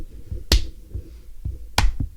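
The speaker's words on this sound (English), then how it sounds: "You're just clapping." On a podcast, hands clap in a few sharp, uneven smacks, close and dry, spaced out over a couple of seconds with quiet murmur between them.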